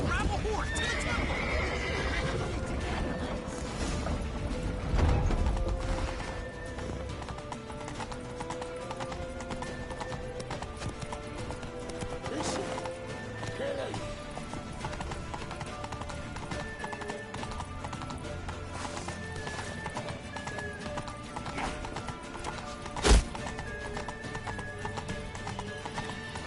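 Horse hooves clip-clop at a gallop with repeated neighs and whinnies in The Witcher 3 video game, a steady loud layer mixed with shouted voices and game music throughout.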